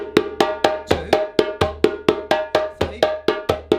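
Hand drum strikes in a quick repeating kurukuka pattern played four times in a row, about a dozen sharp, resonant hits in an even, driving rhythm, close and alone.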